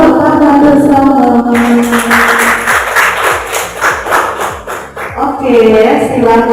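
A group claps hands together in unison during a school counseling session, a run of sharp, evenly spaced claps sounding under and between a loud voice speaking over them.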